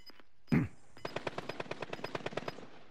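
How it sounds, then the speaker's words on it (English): Automatic gunfire in the Warzone battle royale game, a single heavy blast followed by a rapid even burst of about fifteen shots, moderately loud and alone. "Oh, they're shooting each other."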